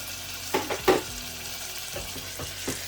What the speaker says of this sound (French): Je vais faire revenir jusqu'à ce que l'oignon devienne translucide